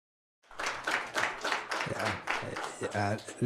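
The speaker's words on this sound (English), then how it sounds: "Let's give him another round of applause" Audience applause at an institutional youth competition event, a dense, steady clatter of many hands clapping that carries through the clip while a voice speaks over the final second.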